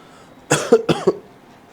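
Two quick, sharp coughs in close succession, close and fairly loud, then quiet.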